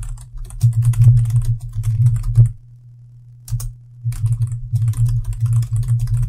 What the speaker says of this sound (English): I'm using my Blue Yeti mic, which picks up all the sound on my keyboard